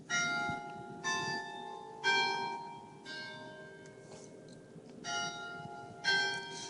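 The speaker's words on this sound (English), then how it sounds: "Hear the bell, right?" A church bell tolls in slow, even strikes about once a second, each ringing out and fading before the next, heard clearly on its own with no talking.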